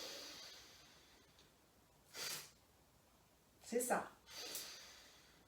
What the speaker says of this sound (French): Inspire forcé.